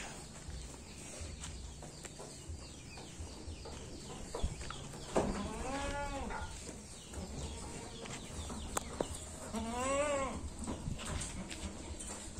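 A male Etawa goat bleats twice, a wavering call at mid-distance in a quiet outdoor farm setting, with faint birds and background noise between calls.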